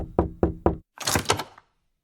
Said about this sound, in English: Sophia knocks at your door again.